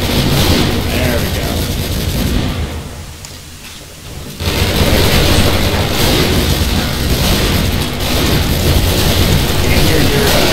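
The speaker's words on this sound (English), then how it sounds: "There we go. Explosions." Loud, dense explosions roar in a video game, a continuous wall of blasts that briefly dips in the middle before surging back at full strength.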